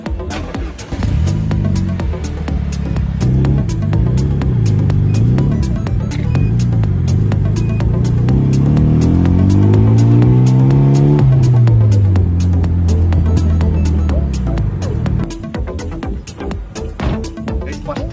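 A DC Avanti sports car with a 6-speed manual gearbox being driven, its engine droning loudly from inside the cabin and rising and falling in pitch through the gears, with a brief dip as revs drop near the end.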